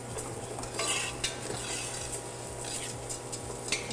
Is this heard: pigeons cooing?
no